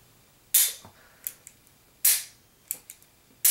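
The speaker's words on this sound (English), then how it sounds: "incredibly hard trigger pull" Several sharp metallic clicks from dry-firing a Polish P64 pistol in 9x18 Makarov, a very heavy double-action trigger pulled one-handed, two loud snaps followed by smaller clicks, close and isolated with no talk.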